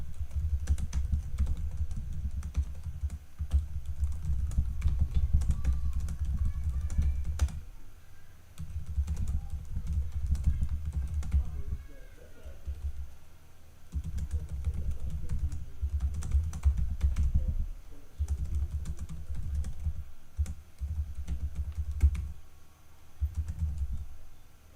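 Someone types on a computer keyboard in bursts of quick clicking keystrokes with short pauses, close and steady for about twenty-five seconds, with no talking.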